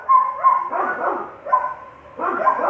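A dog outside barks in several separate bursts with short pauses between them. The barks are moderately loud and slightly distant.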